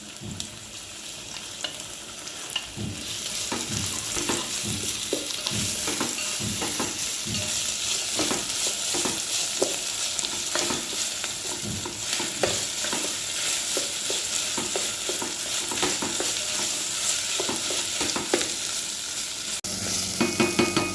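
Onion, green chilli and ginger garlic paste fry in a pan with a steady, close sizzle, broken by repeated scraping stirs of a spoon throughout, with no one talking.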